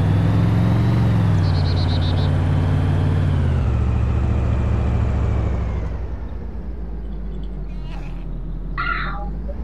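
A vehicle engine droning loud and close in the video game DayZ Origins Mod, a steady, continuous rumble that drops lower and quieter partway through, with brief faint sounds near the end.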